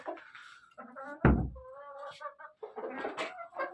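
Hens clucking inside a coop during a winter blizzard, a series of close, varied clucks and squawks with one louder burst partway through; no one speaks.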